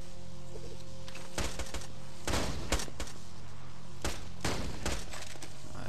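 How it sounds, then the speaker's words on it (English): A shotgun fires in Borderlands 2 in several sharp, loud blasts spaced unevenly over a few seconds, over a low steady game background hum. "It's a shotgun, of course."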